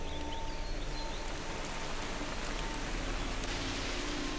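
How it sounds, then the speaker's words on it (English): Monsoon rain falls steadily on a Sri Lankan rainforest, a dense, even hiss of drops at constant loudness throughout, with no voices. "At this time of year, it can rain for 12 hours a day"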